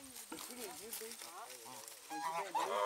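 Zoo birds with clipped wings, goose- or duck-like fowl, give a string of honking calls under and between people talking, growing louder and denser toward the end.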